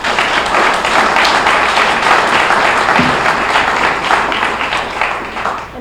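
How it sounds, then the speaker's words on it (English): Members at a weekly Rotary Club luncheon meeting in York, Pennsylvania give a full round of applause, a thick, sustained crowd clapping that holds steady and tapers slightly at the end. "So Rotarians, how about another round of applause?"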